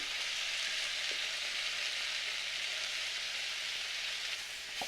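Asparagus, celery and onion stir-frying in a pan, giving a steady, dense sizzle that holds evenly throughout at moderate loudness, with no talking.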